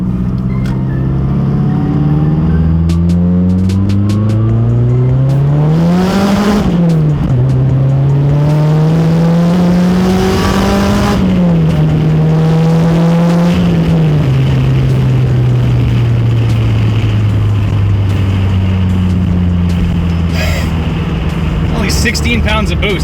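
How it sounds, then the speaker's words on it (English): A Mazdaspeed 3 fitted with a BNR S5 turbo, running 16 psi of boost, pulls hard in second gear, its loud engine note rising steadily before a brief dip and another climb, with some talk over it. "Second gear, let's try it out."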